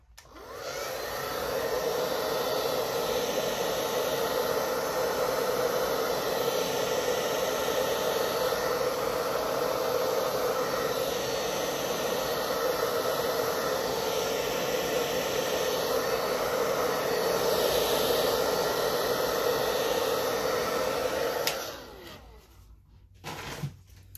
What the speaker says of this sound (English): now I'm just going to take my blow dryer and